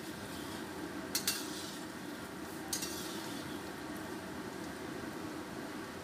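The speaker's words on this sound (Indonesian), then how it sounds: "Lalu cepat diaduk-aduk teman-teman ya, supaya makaroninya tidak lengket satu dengan yang lainnya." Macaroni frying in oil while being stirred, a steady low sizzle running throughout with two bright clinks of a utensil against the pan, no voices.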